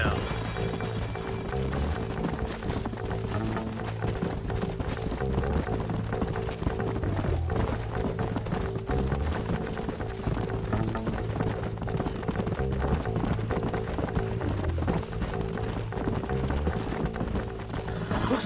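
Horse hooves clip-clop steadily in the Western video game Red Dead Redemption, a rhythmic trotting beat running continuously beneath dense music and voices.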